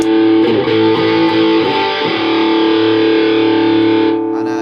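A loud, heavily distorted electric guitar chord rings out with a few quick strums, then sustains with thick fuzzy overdrive before cutting off abruptly.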